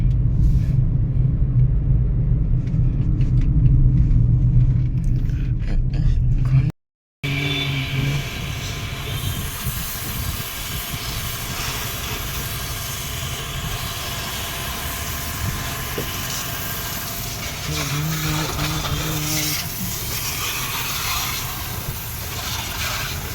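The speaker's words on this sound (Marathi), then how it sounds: "मी कस्टमरला ड्रॉप करून परत गाडी घेऊन चाललोय नाही का वॉशिंगला" A Tata Punch car being driven, giving a steady, loud broadband engine and road rumble that runs almost continuously, broken only by a brief cut near the start.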